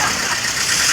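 A car engine runs steadily at a service station as the vehicle pulls in, a continuous mid-range hum with a faint knocking character, loud and close with no talk over it.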